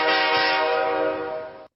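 A single sustained train horn blast, loud and close, holds steady for under two seconds before cutting off abruptly, with no voices over it.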